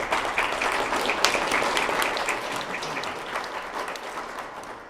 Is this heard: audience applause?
yes